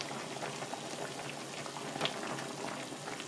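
Korean tofu stew bubbling in a pot, a steady low simmer of small pops and crackles that holds evenly throughout, with one slightly louder burst midway and no voices.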